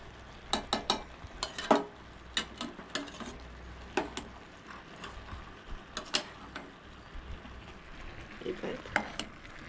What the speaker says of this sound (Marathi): आतां ती बरी मिक्स करून घेवंक जाय.